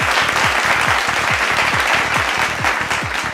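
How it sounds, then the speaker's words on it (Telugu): A crowd at a Telugu film audio launch event applauds loudly and continuously, the dense clapping close and sustained over a thumping musical beat. "ఆహ్వానిస్తున్నాం సగౌరవంగా, గట్టిగా చప్పట్లతో."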